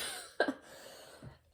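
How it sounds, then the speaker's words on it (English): A single sharp cough with a short follow-up hack, then a quieter throat sound, against a faint background hiss. "Whoa, random cough."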